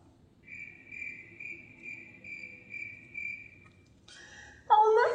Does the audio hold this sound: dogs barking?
no